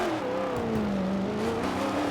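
A Wilson Security Ford Falcon race car in Super 2 qualifying at Bathurst runs off hard toward the tyre barrier, its engine holding a loud sustained drone with shifting pitch, tyres scrubbing beneath, no distinct impact standing out.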